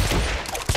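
Enemy gunfire in the Hitman Absolution video game: a dense, continuous burst of shots fills the moment, loud and close, with a sharper crack near the end.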